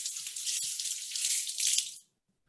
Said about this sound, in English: let me wash my hands and I'll show you the rest